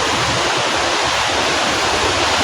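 Water rushes loudly and steadily through irrigation channel streams off a Cianjur river tributary in Cugenang, a dense, continuous close-up roar.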